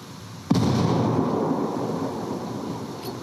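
Grenade blast in Ghost Recon Wildlands: one sharp, loud boom about half a second in, followed by a long rumbling decay that fades over the next few seconds.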